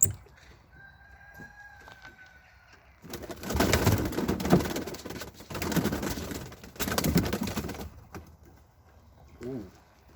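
Tumbler pigeon squabs and their parents in a loft, with a rooster crowing nearby amid bird calls, bursts of broad rustling and wing flapping in the middle stretch, and brief cooing near the end.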